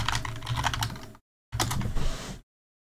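Quick clicking keystrokes on a computer keyboard in two short bursts separated by a brief silence, close and fairly quiet.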